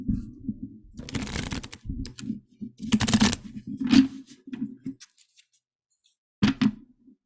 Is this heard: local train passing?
no